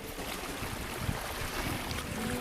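West wind blowing over the Columbia River, a constant broad rushing roar of wind buffeting the microphone, with faint water movement beneath and no voices.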